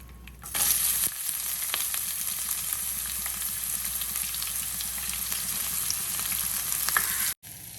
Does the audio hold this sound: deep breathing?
no